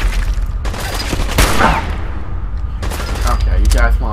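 Shots and bursts of fire in Fallout 4 come loud and close, several sharp reports mixed with a player's voice and game chatter.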